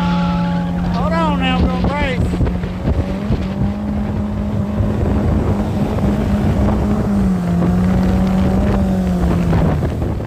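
A motorboat engine on a low river drones steadily throughout, with voices talking over it and wind buffeting the microphone.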